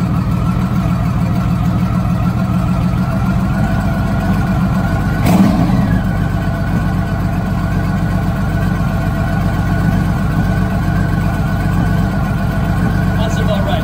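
A motorcycle or car engine running steadily while its carburetors are being synchronized, the idle raised toward the mid 900s RPM, a continuous mid-pitched drone with a brief bump in the middle and no clear voices.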